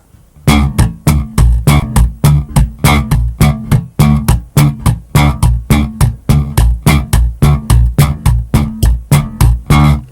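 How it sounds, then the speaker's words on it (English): A bass guitar played with the funk hammer technique, the hand slapping against the strings in a steady rapid rhythm of loud percussive thumps with ringing low notes, played alone. "the hammer approach stems from basically taking the hand and slapping up against the strings"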